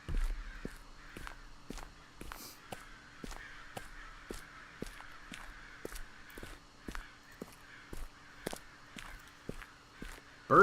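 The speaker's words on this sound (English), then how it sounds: "Birds are loud." Repeated crow caws in the video game Okaeri by Chilla's Art ring out at a regular pace, layered over sharp rhythmic taps like footsteps and a faint ambient hum.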